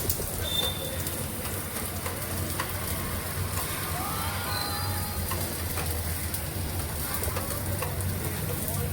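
Onion and garlic sizzle together in oil on a hot pan, a steady, dense crackling hiss that runs without a break the whole time.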